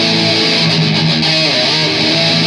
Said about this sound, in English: And then it goes to this really wild split chord